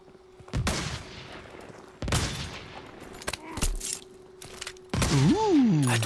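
Sniper gunfire in Call of Duty WW2, heard as three sharp, loud shots spaced a couple of seconds apart, each ringing into a fading echo, with brief game sounds and a rising whoosh near the end.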